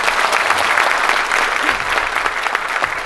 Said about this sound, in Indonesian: Kita berikan tepuk tangan lagi ya.